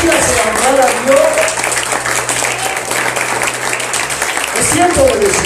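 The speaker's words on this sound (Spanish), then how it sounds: "Le podría dar un aplauso por eso al Señor, hermano. Un aplauso fuerte." A church congregation applauds together, a steady wash of clapping filling the whole stretch, with voices and a sustained low tone underneath.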